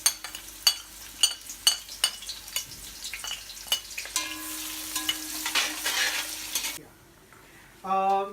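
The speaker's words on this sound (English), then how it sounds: "now we are going to fry the onions." Onions frying in about 150 ml of hot oil for yakhni pulao, a steady sizzle under repeated sharp clinks of a spoon stirring against the pan, with the sizzle swelling louder before a brief lull and a final burst of clatter.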